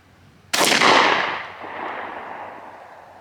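A Stevens 301 Turkey .410 shotgun loaded with Federal TSS 9.5 shot fires a single loud, sharp blast that rings out and decays over a couple of seconds outdoors.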